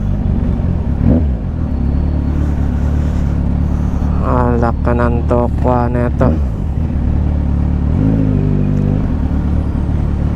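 Heavy traffic surrounds a scooter rider, with a steady low engine rumble and nearby vehicle noise throughout, plus brief rising horn-like tones, while someone talks over it.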